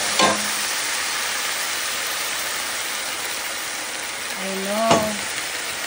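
Pot of collard greens and ham hock broth bubbling with a steady, hissing simmer close by, with a ladle clinking against the pot at the start and near the end and a brief voice heard.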